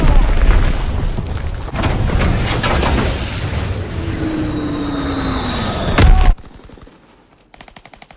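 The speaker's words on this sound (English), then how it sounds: "Enemy bomb incoming! Get to cover!" A bomb explosion in the video game Call of Duty: a loud sustained roar of blasts and rumbling with a rising whine, cutting off abruptly into a quieter rapid rattling.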